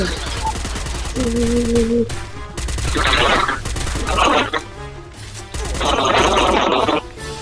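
Gunfire rattles in the Free Fire battle game in rapid bursts, loud and close, alternating with sustained crackling volleys while players talk excitedly over the shooting.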